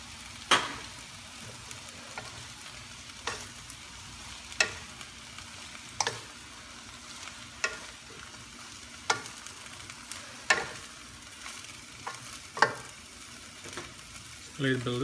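Napa cabbage stir-frying in oil for shrimp lo mein, with a soft, steady sizzle broken by sharp, regular scrapes and tosses of the utensil against the pan about every second and a half.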